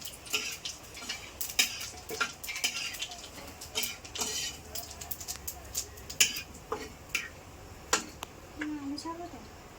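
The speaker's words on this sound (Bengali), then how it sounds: "তেলটা গরম হোক এবার এতে অল্প করে জিরে দিয়ে দিচ্ছি গোটা জিরে" Whole cumin seeds crackling in hot oil in a home kitchen, a steady scatter of small sharp pops and ticks of moderate loudness, with occasional utensil clinks and a voice speaking over it.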